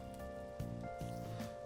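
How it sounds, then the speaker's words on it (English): Minecraft rain patters lightly and evenly under looping modded game music with sustained tones. "Oh, hey, look, it's raining."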